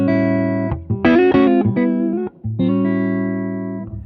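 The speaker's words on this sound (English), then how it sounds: "You can get some nice articulate clean sounds, again, by just turning that volume knob down." A PRS electric guitar played clean with its volume knob turned down gives sustained, articulate chords and single notes, close and fairly loud, with a few short pauses and no talking.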